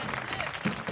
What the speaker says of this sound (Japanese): はい、拍手拍手。